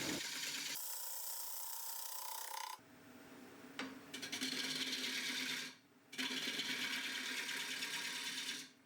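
Wood lathe turning a large salad bowl, a gouge cutting down the tenon with steady scraping and rubbing that breaks off briefly twice, spinning on close and loud.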